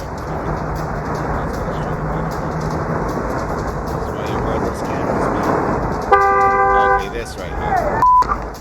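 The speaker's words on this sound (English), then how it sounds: "That horn was the car behind him." A car horn honks at a cyclist stopped at a stoplight behind a truck, one loud blast near the end over steady road traffic noise, followed by a second short toot.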